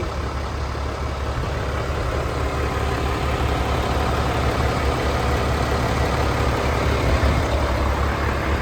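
A 2013 International 7600 single-axle dump truck idles with a steady, low diesel rumble that holds even and loud throughout, no voices over it.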